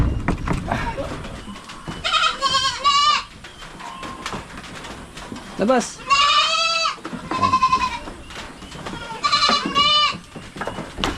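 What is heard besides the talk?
goats bleating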